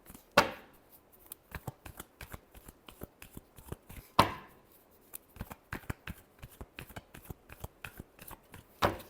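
Tarot cards are shuffled in quick bursts of crisp riffling taps, with a couple of sharper slaps of the deck, close and clear with no talking.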